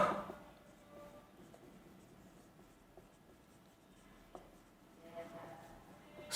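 A pen writes out a definition by hand, a faint, close scratching of strokes with occasional taps and pauses, quiet against a soft room hiss.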